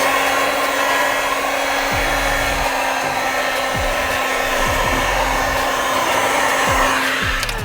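A heat gun blows hot air over material in a steady, loud, continuous whoosh with a constant fan whine, unbroken throughout.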